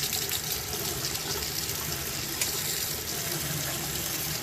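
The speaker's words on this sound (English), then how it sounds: "There we go. We got hot water." Hot water runs from a faucet after a tankless water heater has been flushed and descaled, a steady continuous gush close by with no talking over it.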